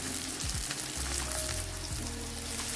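Onions and green chillies fry in hot oil with salt, chilli, turmeric, masala and garlic paste for a butter mutton curry, a soft steady sizzle with a few light stirring knocks up close.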